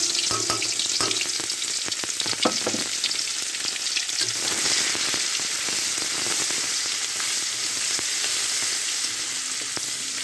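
Onion and garlic paste sizzling in hot oil in a wok, a loud steady frying hiss with occasional scraping stirs and sharp crackles, no voices.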